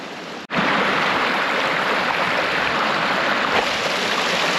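Steady, loud rush of creek water flowing at a Long Creek river crossing in Missouri wilderness, a broad continuous wash close by that starts abruptly after a brief cut, with no talking.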